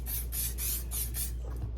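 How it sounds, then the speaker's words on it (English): Carbon Pro protector sprays onto the bottom of a bag in about five short, close hissing bursts in a steady rhythm, with no talking. "So I'm just gonna angle it and spray."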